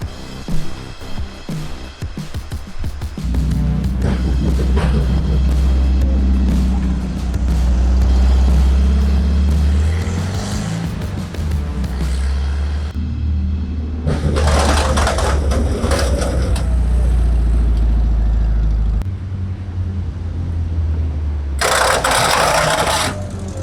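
Split window VW bus engine running on a drive after an electric fuel pump install, a loud, steady low rumble with rattling, shifting in pitch and load as the bus moves, with brief gaps and bursts of louder noise.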